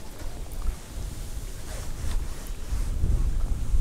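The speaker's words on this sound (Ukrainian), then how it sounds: "Але зараз такий вітер, я не думаю," Strong gusting wind buffets the microphone at a fishing spot by the water, a low rumbling roar that swells toward the end with no speech.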